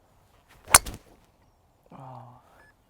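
A golf driver strikes a ball with one sharp, loud crack at close range, followed by a short hum from a launch monitor.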